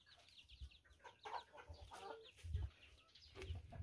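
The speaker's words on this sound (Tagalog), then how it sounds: "Yung mga manok naman po natin," Farm chickens cluck and murmur nearby at a house yard, soft irregular clucks and short calls overlapping, fairly faint.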